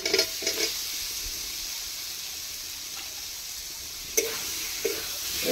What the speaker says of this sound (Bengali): এইভাবে একটুখানি কষে নেব, এইভাবে কষে নেব একটুখানি।